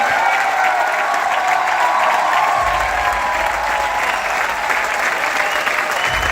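Sustained, loud clapping from a large crowd at a business anniversary gathering, an even roar of many hands throughout with little else over it.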